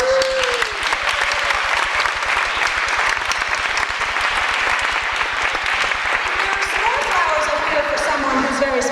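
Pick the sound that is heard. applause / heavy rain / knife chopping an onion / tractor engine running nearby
applause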